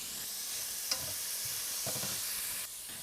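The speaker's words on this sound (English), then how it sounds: "To the pan with this wonderful fond, I add 1 yellow onion" Finely chopped yellow onion sautéing in a pan over browned fond, a steady soft sizzle with a few faint stirring clicks.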